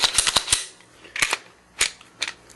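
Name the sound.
dry fire click of a Glock 19 9mm handgun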